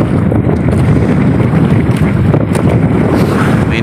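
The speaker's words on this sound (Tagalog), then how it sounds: "Ang lakas naman kasi ng hangin." Strong wind at sea beside a small lobster-fishing boat, a loud continuous roar of gusts buffeting the microphone, with water and hull noise underneath.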